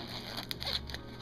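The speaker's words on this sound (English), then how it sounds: "Just zip it open, shove some stuff in there" A zipper on a Joe Rocket Hammerhead motorcycle tank bag compartment pulled open in a short, close raspy burst with a few ticking catches, alone and fairly quiet.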